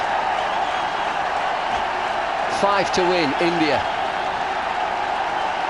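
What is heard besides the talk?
cricket crowd cheering during India's test chase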